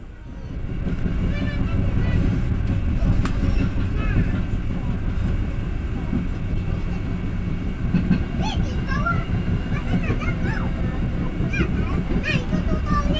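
Pangrango passenger train rolling along the Bogor–Sukabumi line, a steady loud rumble of wheels and carriage heard from onboard, continuous throughout with faint squeals and clanks, no talk.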